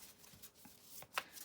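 Tarot cards being shuffled make soft, faint riffling and flicking bursts in quiet surroundings.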